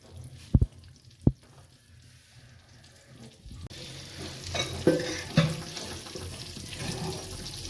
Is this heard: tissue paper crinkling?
no